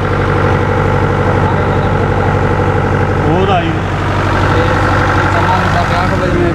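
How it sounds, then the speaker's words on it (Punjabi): A generator runs on a farm beside potato and corn fields, giving off a loud, steady low engine drone that fills the whole stretch, with a brief voice-like sound partway through. "ਅਤੇ ਚੱਲਦਾ ਹੁਣ ਜਨਰੇਟਰ"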